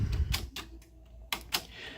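A Sony SL-HF3000 Betamax deck's play button is pressed, giving a few close mechanical clicks and clunks as the transport engages, with quiet gaps between them.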